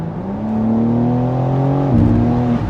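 A BMW M4 Competition xDrive engine revs steadily with a strong, smooth tone, then steps to a different pitch near the end; loud and close, no talking.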